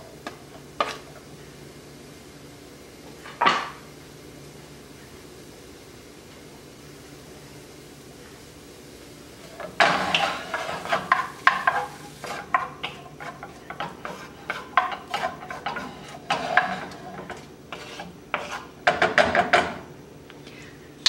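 Onion and garlic cook in a pan over a medium burner, a soft steady sizzle under scattered scrapes and clatter as a spoon stirs them, with busier stirring in the second half.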